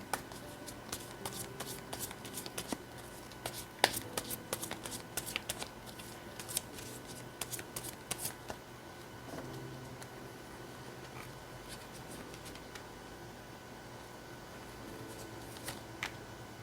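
Tarot cards being shuffled close up, a quiet stream of crisp papery flicks and riffles in bursts, fading into softer rustling toward the end.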